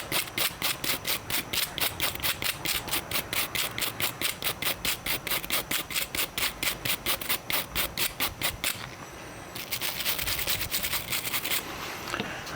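A nylon brush scrubs an aluminum .22 Woodland silencer from GSL Technologies in quick, rhythmic back-and-forth strokes, close and crisp, with a short pause before a faster burst of scrubbing.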